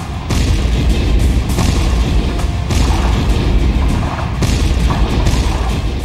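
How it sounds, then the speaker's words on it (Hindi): Indian Army shelling strikes Pakistani military posts in a dense, continuous barrage of heavy booms and crashing blasts, loud and rumbling with no voices. "भारतीय सेना ने पाकिस्तानी पोस्ट पर बमबारी का वीडियो जारी करते हुए"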